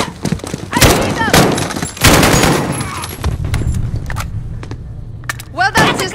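Scattered bursts of gunfire in the video game Call of Duty: Modern Warfare ring out in sharp loud clusters between spoken lines, with voices talking throughout the exchange.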